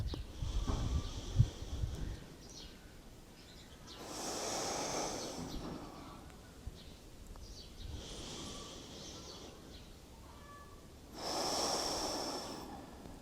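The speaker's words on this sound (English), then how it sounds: "3 more breaths." Slow, deep breathing during a seated yoga session: long airy inhales and exhales come in broad swells every few seconds, soft and close, with quiet gaps between them and no talking.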